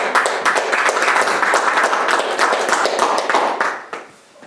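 Applause from a school board meeting audience, steady dense clapping from many hands that fades out near the end.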